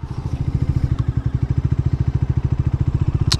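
A Bajaj Dominar 400cc motorcycle engine pulling hard under throttle on a highway, its thumping exhaust pulses coming in a rapid, even rhythm, loud and close, with a couple of sharp clicks over the drone.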